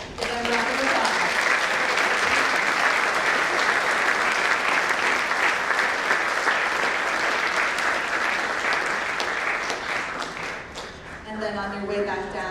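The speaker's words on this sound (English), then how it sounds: "Give them a round of applause." An audience at a school honors night gives sustained, dense applause for honorees, steady for about ten seconds before fading as a voice begins speaking.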